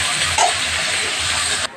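Potatoes, onion, carrot and spring onion sizzle together in a hot pan, a steady close hiss that runs evenly before cutting off abruptly near the end.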